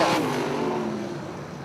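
410 nonwing sprint cars race at Lawrenceburg Speedway, their engines roaring loud and steady as the pack comes through a turn, with a droning, slightly fading engine tone and no talking.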